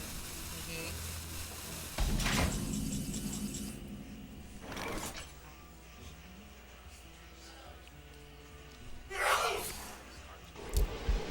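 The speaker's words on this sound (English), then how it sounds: "It was a loud sneeze, though." A single loud, explosive sneeze bursts out near the start, followed by quieter rustles, a gasp-like breath and a few sharp noises later.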